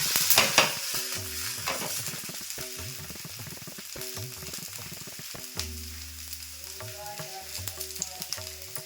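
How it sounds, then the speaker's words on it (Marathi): Green moong chila fries in ghee on a pan over high gas, giving a steady close sizzle with occasional brighter crackles and some tonal clanks and scrapes in the background, with no talk. "दोन्ही बाजूनी आपल्याला व्यवस्थित शेकून घ्यायचं आहे चिला"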